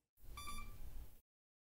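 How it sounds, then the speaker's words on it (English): An iovera° handpiece gives a short electronic beep of about one second confirming tip bevel alignment, faint and steady with a buzzy tone, standing alone against silence. "Alignment is confirmed by an audible beep."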